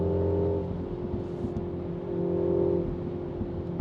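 A MINI car engine in boost mode hums at a steady, high pitch as it accelerates, a smooth sustained drone with a slight swell partway through, heard from inside the car.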